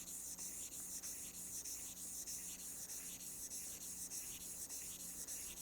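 A hair clipper blade is rubbed back and forth, kept level, on a 1000 grit sharpening stone. It makes a steady, rhythmic scraping hiss, close and continuous, with no voices.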